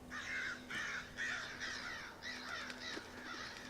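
Crows cawing in the dark woods of the Darkwood video game, a series of about seven harsh caws in a steady rhythm, moderately distant over a low constant hum.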